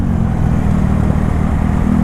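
A carbureted Honda Beat scooter, bored up to 130cc and fitted with a racing exhaust, runs close and loud with a thick, steady engine drone and no pauses.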